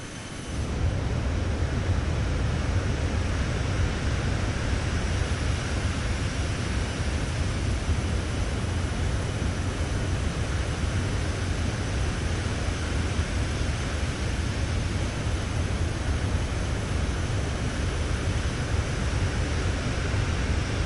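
Steady, broadband jet roar from a Citation X in cruise in Microsoft Flight Simulator 2024, bound for Sangster International in Jamaica, holding even and loud with no talk for about twenty seconds.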